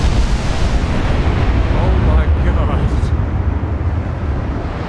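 Naval battle in a video game with torpedoes launched among battleships, a loud, continuous roar of layered explosions and rumbling blasts that fills the whole stretch without a break.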